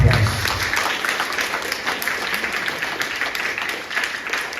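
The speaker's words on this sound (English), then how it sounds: "So please give a big round of applause." Steady applause from a seated audience at a spiritual lecture event, a dense continuous patter of clapping holding at an even level throughout.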